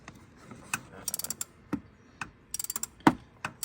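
Mechanical clicking and ratcheting while a long starter bolt is removed from an Acura RSX (Honda DC5), with bursts of quick metallic clicks, a few sharper knocks, and pauses between them, close and fairly quiet.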